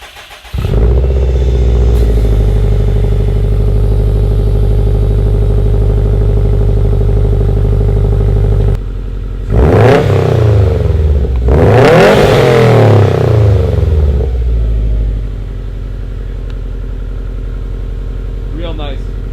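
Cold start of a Subaru STI fitted with an Invidia Q300 hi-flow catted downpipe: the engine catches almost at once and settles into a loud, close, steady high idle, broken by a couple of sharp throttle blips partway through.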